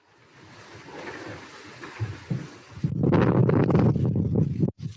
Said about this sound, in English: It's pretty windy there, Connor